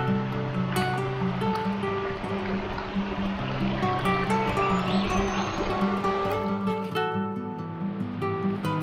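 A waterfall at the Glass House Mountains near Montville gives a steady rushing hiss of falling water, partly masked by music playing over it.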